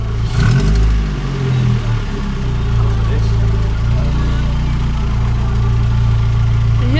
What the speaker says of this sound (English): But I don't like that exhaust note